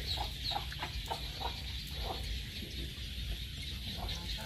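Chickens on a rural Thai farm clucking in short, repeated bursts over a steady low background rumble, with soft scattered calls close by and no talk.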